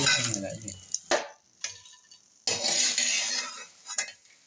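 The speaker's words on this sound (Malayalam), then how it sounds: "എല്ലാം നല്ല ഇളക്കി കൊടുക്കണം അന്നേരം എല്ലാ വശവും എല്ലാ പപ്പടവും ഒരേപോലെ വറന്നെടുക്കും" Papadums frying in coconut oil and stirred around in the pan: a few sharp metallic clinks and scrapes separated by quiet gaps, with bursts of crackling sizzle between them.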